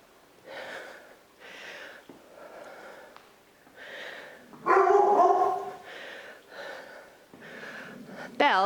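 Bella, a very vocal pet dog, lets out a loud burst of barking midway through, set against the quieter room sound of a home workout. A second sharp bark or yelp comes right at the end.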